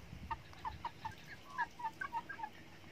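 A broiler chicken clucks in a quick run of short, bright calls, about a dozen close together, fairly near with no other sound.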